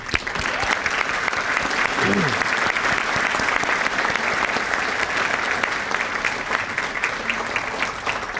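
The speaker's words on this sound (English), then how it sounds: "can we give them a round of applause?" Loud, sustained applause fills a room at a St. Paul police department awards ceremony, the crowd clapping for department partners in a dense, steady roar, with a brief voice surfacing early on.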